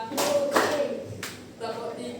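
A classroom audience of students claps on cue in short, loud bursts, a few separated strokes heard close and alone with a brief pause between groups.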